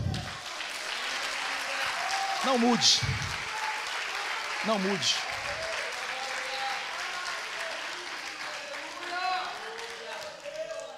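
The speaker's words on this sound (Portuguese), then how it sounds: "Você pode aplaudir ao Senhor?" A church congregation applauds during a sermon, sustained clapping spread through a large room while someone speaks loudly over it with echoing voice.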